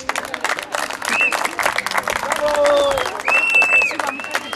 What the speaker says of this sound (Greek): Ή χειροκροτάμε ή δεν χειροκροτάμε.